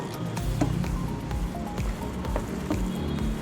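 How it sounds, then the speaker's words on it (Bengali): Chicken pieces being mixed with an egg by hand, making wet squishing and squelching sounds. The rhythmic squelches repeat steadily and sound close by. "এবার দেব একটা ডিম, এটাকে আমি ভালো করে মেখে নেব।"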